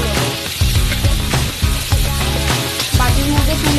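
Sonkor fish fry in hot oil in a pan, giving a steady crackling sizzle broken by several sharp bursts as pieces are turned or stirred, close and loud with no voices.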